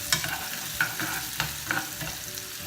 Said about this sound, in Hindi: और प्याज को थोड़ा सा हल्का पिंक होने तक इसको हम भूनेंगे, जिससे कि एक अच्छा सा इसमें खुशबू आ जाए।